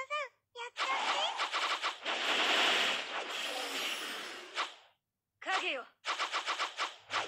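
Video game gunfire from an anime battle game: rapid machine-gun bursts in a long sustained volley, then short choppy bursts with a brief gap, loud and close, with no voices.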